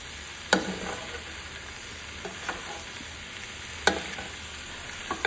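Paneer bhurji being stirred into masala in a pan, a low steady sizzle with a few scattered scrapes and clacks of the spoon against the pan.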